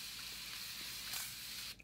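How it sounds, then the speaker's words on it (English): A water mist spray bottle is spritzed onto a made-up face, giving a soft, steady hiss that lasts most of the moment and then cuts off abruptly; quiet and close, with no voices. "I'm gonna give it a spray with this water mist"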